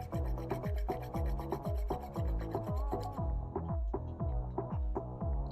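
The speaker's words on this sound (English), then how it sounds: "I'm gonna grate, say 1 teaspoon of fresh nutmeg zest." Fresh whole nutmeg rasps across a grater in repeated, rhythmic strokes, about two per second, close and distinct, pausing briefly before resuming, with no talking.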